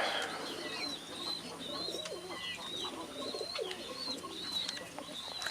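Pigeons of various breeds cooing in a loft, soft repeated coos with occasional chirps over a steady background hum.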